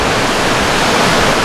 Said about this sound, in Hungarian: Vízesés ez itt meg mellette.